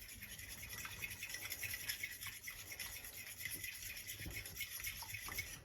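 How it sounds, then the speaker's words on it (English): A whisk scraping the bottom of a mixing bowl of egg and breadcrumbs, a faint rapid rhythmic scratching and swishing that repeats steadily with no talk. "Oh, horrible sound, that scrape on the bottom."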